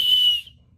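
A single short shrill blast from a small whistle on a Temu survival band, loud and close, cut off after about half a second and followed by near silence.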